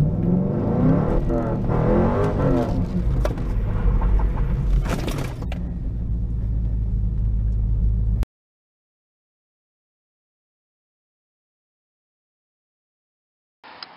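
A 1996-98 Ford Mustang Cobra accelerates hard with traction control off, its engine roaring loud and close with rising revs for about eight seconds before cutting to silence, then a brief faint noise at the very end.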